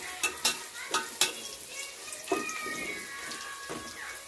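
Moong dal being stirred into browned onions frying in a pan for khichdi, with a steady sizzle and several sharp scraping stir strokes, close and fairly clear.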